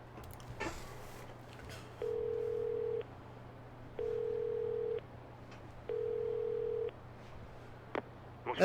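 A payphone is dialed in the video game Yakuza 0: three evenly spaced, steady one-second electronic tones separated by short pauses, over a low background hum with a few faint clicks.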